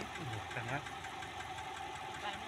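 A motorcycle engine idles at low RPM, struggling and shaking as if close to stalling, a steady rough running noise throughout with someone talking over it.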